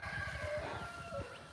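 Backyard chickens clucking and crowing in repeated bursts at a steady rhythm, fairly close and moderately loud against a low, breathy background.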